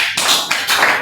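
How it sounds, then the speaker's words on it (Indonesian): Classroom applause for a group that has just presented, a short burst of hand clapping with a few distinct claps standing out, close and fairly loud. "Tepuk tangan untuk kelompok"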